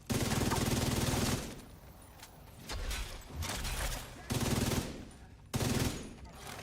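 Automatic weapon fire in The Division 2: loud bursts of rapid gunshots come in several separate volleys with brief quieter gaps between them, close and punchy.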